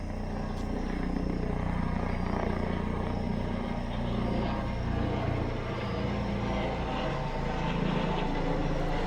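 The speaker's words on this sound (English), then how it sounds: "That's the hospital helicopter." Hospital helicopter flying overhead, a steady low rotor and engine drone that holds at an even level throughout, with no talk.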